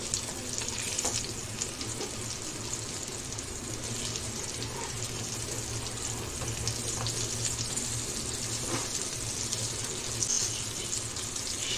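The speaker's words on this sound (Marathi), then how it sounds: "आपण दोडक्याचे काप फ्राय करून घेऊया।" Ridge gourd slices frying in oil on a tawa over a gas flame, giving a continuous crackling sizzle at an even level for the whole stretch, close up and with no talk.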